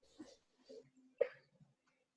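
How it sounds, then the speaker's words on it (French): A single sharp cough stands out among a few quiet throat sounds and soft breathy noises, close by in a quiet room. "C'est incroyable comme je tousse comme ça, quand même."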